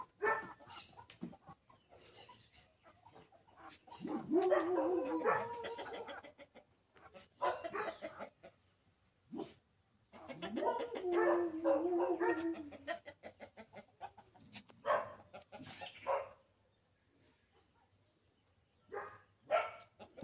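Dogs bark in bursts on a small rural farm in Brazil, with possible chicken sounds mixed in; the barking comes in two main loud bouts separated by quieter stretches, with scattered shorter yelps toward the end.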